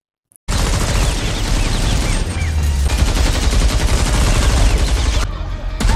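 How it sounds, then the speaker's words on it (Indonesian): Dense, continuous automatic gunfire and bursts of shooting fill an action film scene where attackers fire down on wedding guests, loud and sustained for several seconds after a brief silence. "Karena terdengar suara tembakan"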